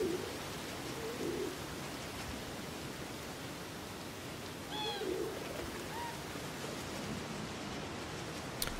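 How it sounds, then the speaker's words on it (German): A pigeon in the Endling survival game gives a couple of soft, brief coos, one early and one midway, set against a constant hiss like rain or rushing water. "Oh, die Taube."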